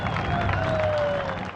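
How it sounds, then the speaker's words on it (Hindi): A crowd claps and cheers in a steady wash of applause at an Imran Khan political rally in Kohat, Pakistan, with a voice carrying over the noise. "भरपूर तालियां"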